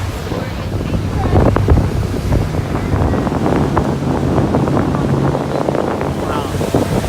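Strong wind buffets the microphone during a boat ride past large waterfront houses, a constant roaring rumble with water and engine noise beneath and some talking mixed in.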